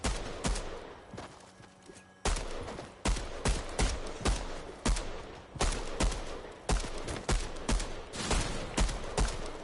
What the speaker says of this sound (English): they're shooting me already